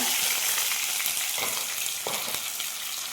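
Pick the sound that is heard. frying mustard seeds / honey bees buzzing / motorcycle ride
frying mustard seeds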